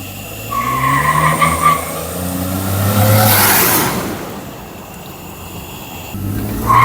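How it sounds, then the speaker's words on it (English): A Ford F150 pickup with the 3.5 EcoBoost engine and a cold air intake spins its tires, a loud sustained screech rising and falling over engine roar, close and without talk. "I'm barely even touching it and it's spinning the tires"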